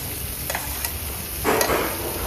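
Prawns stirred with spices in a pan give a steady, soft sizzle of frying, with a few scraping stirs and a louder surge of crackling partway through.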